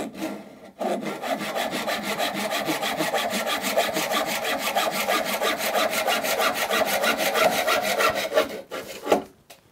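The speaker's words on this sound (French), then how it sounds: "Ça coupe bien ces scies japonaises." A Japanese saw cuts through a wooden spade handle during workbench building, making quick, steady back-and-forth strokes close up for about eight seconds before stopping.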